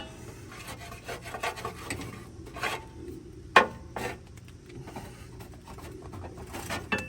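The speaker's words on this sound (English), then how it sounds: "I'm going to go ahead and clean off this deck where I can." Dried dirt, grime and old grass scraped from underneath a Toro Titan Max mower deck with an old blade, making close, irregular rasping strokes with one sharp metallic clack midway.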